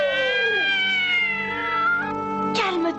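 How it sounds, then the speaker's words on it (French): A cat meows loudly and close, one long drawn-out wailing cry sliding downward, then a second rising meow near the end, with no other sounds around it. "Ce chat me rappelle quelqu'un"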